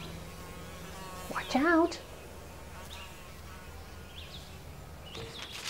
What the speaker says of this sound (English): Bees love dill. This big bee can balance on those tiny blooms.